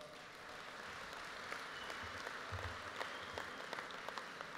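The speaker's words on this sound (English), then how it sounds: "Please give yourself a round of applause." A room of conference delegates gives themselves a round of applause, a moderate, somewhat distant crowd clapping that holds steady for a few seconds with occasional louder claps.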